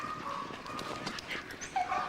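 Tartan Terriers bark, whimper and yip faintly at a distance, small scattered dog voices over a low background murmur, with one slightly louder yelp near the end.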